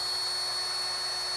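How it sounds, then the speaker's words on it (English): A variable speed drill runs at a steady medium speed, mixing decorative quartz flooring material; a continuous, even whir with a bright high-pitched tone holds throughout, close and alone with no talk. "So just a medium speed on your variable speed drill here."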